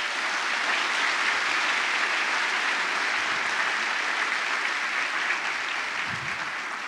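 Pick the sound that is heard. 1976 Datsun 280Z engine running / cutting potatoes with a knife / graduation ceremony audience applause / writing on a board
graduation ceremony audience applause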